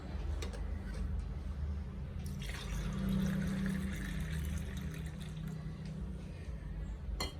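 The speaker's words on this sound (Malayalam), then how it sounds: "ഒരു ഗ്ലാസ്സിലോട്ട് ഒഴിക്കാം" Amla juice pours steadily into a glass nearby, a continuous trickling stream with a faint splash, and no voices.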